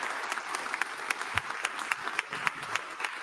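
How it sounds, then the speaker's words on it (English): Scattered applause from a small audience at a council meeting, with individual claps standing out in a loose, uneven rhythm, moderately near. "Oh, round of applause."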